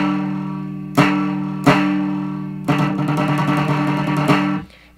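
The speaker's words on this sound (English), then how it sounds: "the strings are wound around each other, and we've created a snare, and it sounds like this." Prepared guitar with wound-together strings forming a snare-like effect, sharp buzzing struck attacks, two single hits then a rapid rattling strum, close and loud with ringing sustain between strokes.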